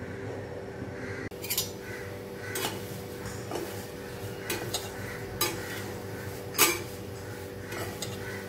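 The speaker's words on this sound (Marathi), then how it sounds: "असे पोहे सारखे हलवत राहायचे" Dry poha flakes stirred in a hot kadai while being roasted for chivda: a steady scraping rustle with sharp spoon-on-metal clinks at irregular intervals, close and fairly quiet, with no talking.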